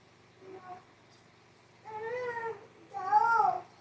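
Two or three short meows from a cat, rising and falling and nearby, with a quieter murmur before them and no speech on top.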